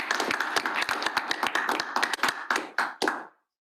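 A small audience at a bootcamp session gives a round of applause, with close, distinct individual claps in an uneven rhythm that thin out and stop abruptly near the end.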